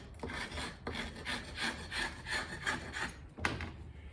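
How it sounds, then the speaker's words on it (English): A steel scraper with a squared 90-degree end drags repeatedly across hydrocal plaster on a bas relief carving, giving a steady series of rough, gritty strokes, close and moderately loud, with no talking. "The reason I like this scraper with the 90-degree end is I can drag it."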